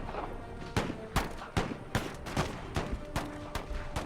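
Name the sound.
Puckle guns firing in a video game battle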